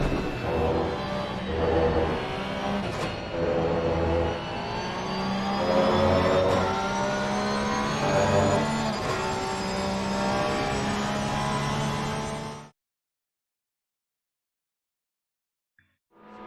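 Race cars, a Bentley chasing a Porsche, scream past in the Assetto Corsa Competizione video game at Zolder, engines revving and shifting loudly for about twelve seconds before cutting to silence.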